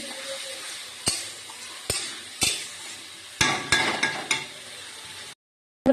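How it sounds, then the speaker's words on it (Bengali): Lote fish (Bombay duck) is stir-fried in a pan for a spicy jhal curry. A spatula scrapes and knocks against the pan in sharp, repeated strikes over a steady sizzle, close by and fairly loud, ending in a brief silence. "লোটে মাছটা দিয়ে ভালো করে কষাচ্ছি।"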